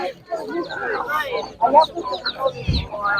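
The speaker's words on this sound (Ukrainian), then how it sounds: "Це такий карликові кури, хто не знає" Bantam hens cluck at a livestock market among other poultry, short bursts of clucking mixed with nearby voices talking over them.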